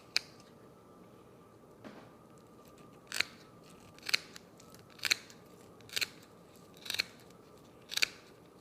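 Scissors snip through walleye skin and scales during taxidermy work, about eight crisp cuts arriving roughly once a second at close range against quiet room noise.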